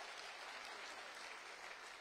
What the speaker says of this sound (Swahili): Makofi kwake tafadhali, makofi kwake.